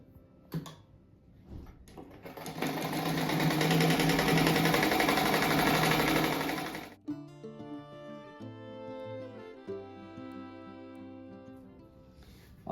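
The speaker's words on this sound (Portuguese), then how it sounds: "Agora eu vou costurar esses daqui." A sewing machine stitches pieces of a fabric rug in one loud, rising whir of about four seconds, followed by softer tonal sounds.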